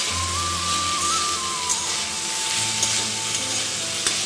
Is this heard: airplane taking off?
no